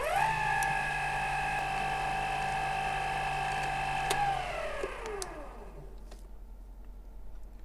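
Metal lathe turning a replacement humidifier part with passes 20 to 30 thousandths deep: a steady, close whine with faint ticking, then the spindle winds down and falls quiet.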